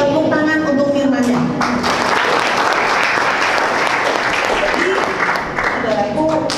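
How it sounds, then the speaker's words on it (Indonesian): A church congregation at a Christmas service applauds at length, a dense, loud burst of many hands clapping together in a hall, with music or voices faintly underneath. "Tepuk tangan untuk firman-Nya."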